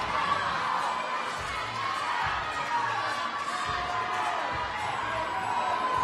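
A crowd cheers and shouts encouragement for an athlete at the Burn Boot Camp Athlete Games fitness finals, steady excited whoops and yells carrying on throughout at moderate distance.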